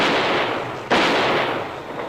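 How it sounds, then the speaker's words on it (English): An old car backfires with a single sharp, gunshot-like bang that cuts through a steady background hiss, then fades back into the noise. "The sound came from an old car."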